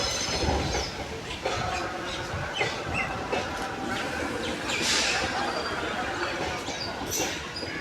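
Trichy-Erode express train pulled by twin locomotives departing Trichy junction, heard as a moderately distant rumble of rolling wheels with rail clicks and squeals.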